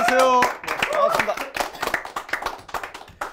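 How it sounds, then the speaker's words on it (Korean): A studio audience at a book forum claps for an author guest in a short burst, followed by scattered claps and taps while people talk over it. "박수 부탁드리겠습니다"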